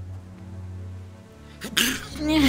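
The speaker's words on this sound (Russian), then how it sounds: "Извиняюсь за то, что я чихнул." A single sharp sneeze bursts out near the end after a quiet stretch of low steady hum, loud and close, with a brief breathy follow-through.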